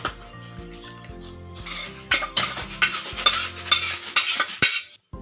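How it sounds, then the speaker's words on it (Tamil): A spoon stirring cooked white rice into tomato paste in a pan, with rhythmic scraping and clattering strokes that grow louder and busier, ending in a sharp knock followed by a short silence. "இப்போ இது கூட நம்ம ஒயிட் சாதத்தை போட்டு கிண்டிக்கலாம்"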